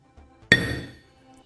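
A hammer strikes a diamond once with a sharp, bright crack and ringing clink that decays over about half a second, preceded by a faint soft tap, close and alone.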